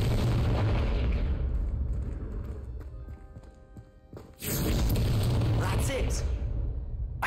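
A Confringo fire spell from the video game Hogwarts Legacy bursts as a loud, booming blast with a low-frequency thump, followed by rumbling fire. Other game sounds fill the background, and it sits amid ongoing game audio rather than standing alone.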